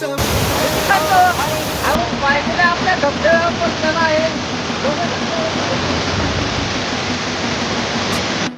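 A hidden waterfall near Kolhapur, reached by a forest trek, roars as a loud, steady broadband rush throughout, with someone talking over it for the first half.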